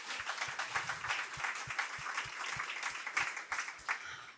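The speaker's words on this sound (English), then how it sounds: "Another round of applause," An audience at a university business competition keynote applauds the sponsors, steady moderate clapping from many hands with some distinct individual claps, fairly distant and sustained without speech.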